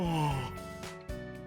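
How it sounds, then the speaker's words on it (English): A person yawns from underneath a desk, a drawn-out breathy vocal sound that slides downward in pitch and fades, followed by a soft exhale, fairly quiet in a visual novel scene. "Someone yawns and gets up from underneath the desk."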